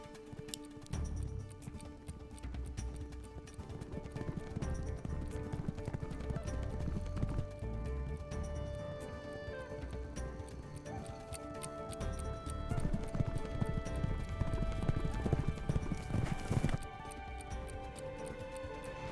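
Horse hooves clip-clop steadily around a racetrack, a young horse's rhythmic footfalls heard continuously at moderate distance against a busy background of scattered tones and faint noises.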